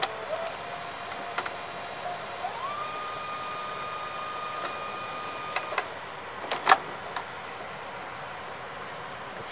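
A Mitsubishi HS-U576 VCR runs in double-speed forward search, a faint, steady electronic whine with sustained thin tones, broken by scattered light ticks and clicks.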